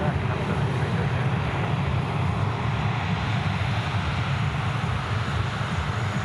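An aircraft, a Cessna, taking off from a runway at Sydney Airport, a loud, continuous broadband engine roar that holds steady throughout.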